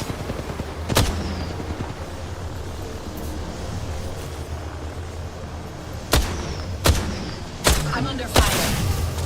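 Gunfire in the battle-royale game Apex Legends: several sharp, loud shots and blasts ring out at irregular intervals, one early and a cluster near the end, over a steady rumbling background of distant combat.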